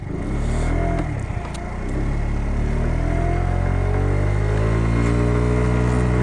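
A Kymco Agility 50 scooter climbs a hill, its small engine droning loudly and steadily close by with a rising, strained pitch and no talking.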